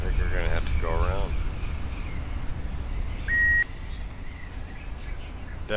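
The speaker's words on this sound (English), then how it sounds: "That beep is a warning from the gyrocopter that you have lost forward momentum." Warning beep from a gyrocopter losing forward momentum in Flight Simulator, a single short steady tone heard once under engine and wind noise, with a voice at the start.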